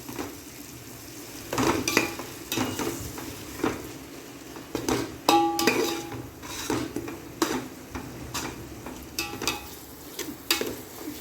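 Ginger garlic paste frying in a pot over a low flame for mutton biryani, with a soft steady sizzle under repeated scraping and clinking of a metal spoon against the pan, close and moderately loud.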